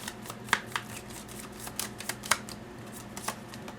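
Tarot cards being shuffled in a quiet room, a run of soft riffling snaps and flutters with a few sharper clicks, close and fairly faint, with no voices.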